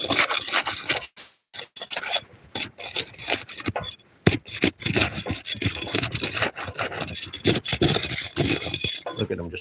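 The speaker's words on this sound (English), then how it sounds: "Look how crappy the shingles are. They're just tearing apart." Old, deteriorating asphalt roof shingles are torn and pried off the roof decking, giving loud, ragged scraping and ripping bursts that continue with brief pauses, close and dominant.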